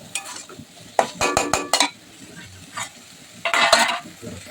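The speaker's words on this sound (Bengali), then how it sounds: "চিকেনগুলো দিয়ে আমি ভালো করে একটু নেড়ে নিচ্ছি।" Chicken pieces frying and being stirred in a pan for a rajma dish: close, loud bursts of spatula scraping and clanking come in quick clusters over a low sizzle, with no talk.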